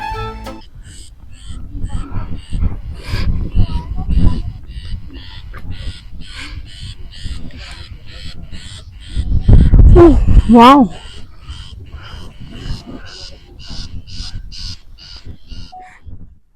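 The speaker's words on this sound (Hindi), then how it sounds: "एक चिड़िया की आवाज़ आ रही थी राइट हैंड साइड से" Bird calls, including crow-like caws, ring out around Kaas Plateau near Pune. The calls are scattered, with a louder burst midway, and people talk over them.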